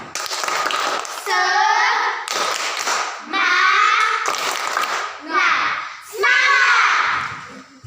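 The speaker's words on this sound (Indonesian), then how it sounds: "Tepuk semangat dulu untuk Eksan" A primary school class in Indonesia gives a rhythmic spirit clap for a classmate: bursts of clapping in a steady pattern, joined by loud children's voices chanting in unison between the claps.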